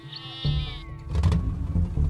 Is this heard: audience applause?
no